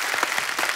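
A studio audience at a Hindi comedy talk show breaks into a brief burst of even, dense clapping that fills the whole short moment.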